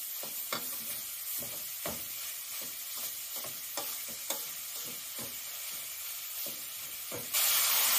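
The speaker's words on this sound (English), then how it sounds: "Adding the ground beef, mixing it a bit to get it sauteed." Ground beef sautés with spices in a pot for samosa filling, a soft, steady sizzle with repeated scraping stirs of a spoon, nearby and quiet, ending in a sudden louder burst of hiss.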